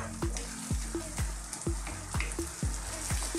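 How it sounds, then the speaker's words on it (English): Canned tomatoes poured into a hot pan for spaghetti muffins, a steady close sizzle and bubbling with evenly spaced soft plops repeating about twice a second. "Now I'm going to add some tomatoes."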